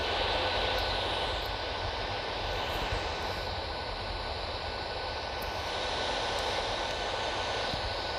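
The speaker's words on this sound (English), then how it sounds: "Coming through flight level 150, speed still good. We're just cruising along here on the 737." Boeing 737 jet engines drone steadily while cruising in the X-Plane 10 Mobile flight game, a constant broadband roar with a faint high whine, even and unbroken throughout.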